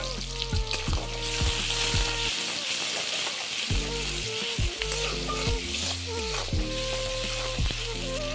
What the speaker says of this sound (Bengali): তাতে পেঁয়াজটা খুব ভালোভাবে ভাজা হয়ে যাবে।